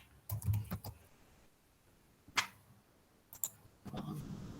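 Computer keyboard typing in short bursts of clicking keystrokes separated by quiet pauses, close and moderately soft, as an email address is entered during a demo.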